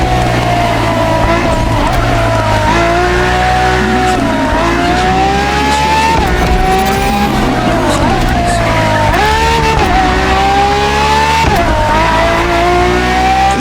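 Ferrari FXX K race car in The Crew Motorfest, its engine revving loud and close with rising and falling pitch through gear changes, tyres squealing and skidding, continuous throughout.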